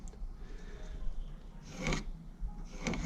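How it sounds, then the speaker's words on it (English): A pencil scratches a line along a speed square across wooden studs for a shed wall, giving two short, close rasping strokes over a quiet, rustling background. "We're gonna grab our speed square, and we're just gonna draw a line across for both of them at the same time"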